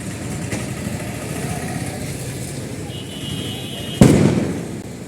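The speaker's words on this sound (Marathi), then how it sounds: "फटाक्याच बीडी बॉम एवढे खास नाही वाजते ते" A small bidi bomb firecracker goes off during Diwali, one sharp loud bang near the end after a stretch of street background noise and a passing engine hum.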